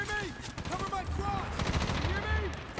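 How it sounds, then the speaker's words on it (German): Covering fire in the Medal of Honor game: quick, fairly quiet gunshot bursts repeat over a continuous background with tonal, rising and falling game sounds. "Covering Fire"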